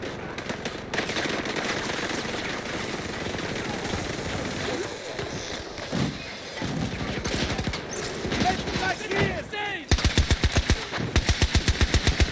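Automatic weapons fire in an online shooter game, starting as dense overlapping gunfire and ending in a close, loud run of evenly spaced rapid shots, with a player talking over parts of it.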